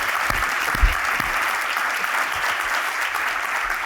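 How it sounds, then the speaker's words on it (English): Sustained audience applause at a William Julius Wilson Institute event, a dense, steady wash of clapping from a large crowd at even loudness throughout, with a few low thumps near the start. "I think that deserves a round of applause."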